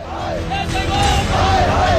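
Striking municipal (MCD) sanitation workers shout together in protest outside the Delhi Assembly speaker's house, a loud crowd of raised voices and chanting yells.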